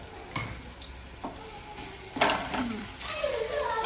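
Chicken masala being stirred in a frying pan, with several scraping strokes and clinks of a spoon over a light sizzle, close up and fairly quiet, with no talk.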